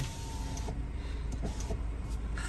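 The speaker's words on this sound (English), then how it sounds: "I'll lower the window so you guys can hear the car." Electric window lowering in a 2020 Audi S3, a steady, quiet motor whir heard from inside the cabin over a low engine rumble.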